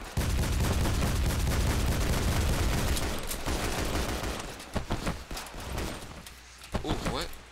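Rapid gunfire in the shooter game Double Action, heavy sustained bursts for the first few seconds, then thinning to scattered shots and short volleys, loud and close.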